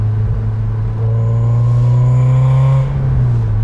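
An MG TF 135 sports car engine runs steadily up close, its loud drone climbing slightly in pitch before settling back, with no voices.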